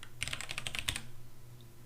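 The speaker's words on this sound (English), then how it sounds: "you can see as soon as I stop typing" Quick typing on a computer keyboard, a burst of light key clicks close by lasting under a second, then stopping and leaving quiet room noise.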